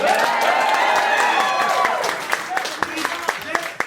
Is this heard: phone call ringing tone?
no